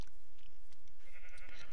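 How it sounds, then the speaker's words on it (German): Sheep bleat in the video game Minecraft, a few short wavering bleats heard over a background of game ambience, with no talking. "Hier sind Schafe."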